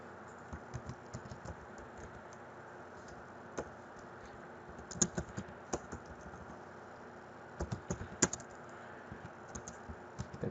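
Faint, near typing on a computer keyboard as a file name is entered, clusters of light key clicks separated by short pauses over a soft steady hiss.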